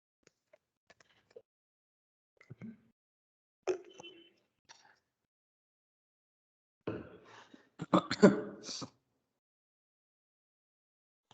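Several scattered coughs, a couple of isolated hacks and then a denser cluster of coughing near the end, fairly quiet with silence between them.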